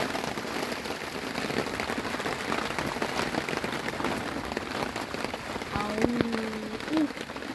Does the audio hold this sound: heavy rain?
yes